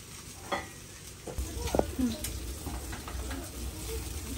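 Long beans sizzle in a little oil over a medium-low flame, with a spatula stirring and scraping the pan at intervals and a voice speaking faintly in the background.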